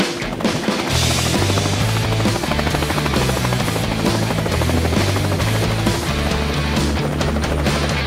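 A helicopter roars loudly and continuously over Bali, its rotor thudding in a fast, steady rhythm from close by, with no talking.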